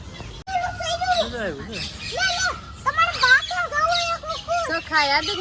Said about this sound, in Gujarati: આ તો દેશી પોપટ